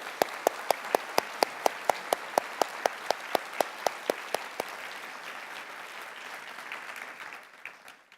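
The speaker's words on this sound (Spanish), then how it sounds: "yo quiero dar un aplauso muy especial a esos padres que son fieles a Dios y a sus" A church congregation applauds fathers during a sermon: a dense crowd of clapping, with one near, loud pair of hands beating a steady rhythm that stops partway through while the general applause fades away.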